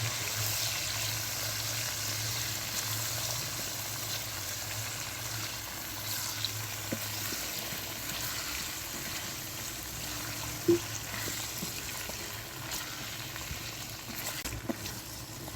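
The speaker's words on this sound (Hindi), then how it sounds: "आलू को अच्छी तरह से भूनेंगे।" Diced potatoes fry in oil with ginger, garlic and cumin, a soft continuous sizzle with a low steady hum beneath and an occasional faint clink, quiet and without talk.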